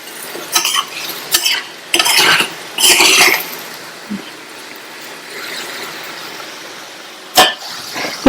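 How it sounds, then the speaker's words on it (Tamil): A spoon stirs potato fry in a pan, with several loud, close scraping and clattering strokes in irregular bursts, then a quieter pause and one last sharp scrape. "ஃப்ரை ஆயிட்டு இருக்கும்போது இந்த மாதிரி கலந்து கொடுங்க."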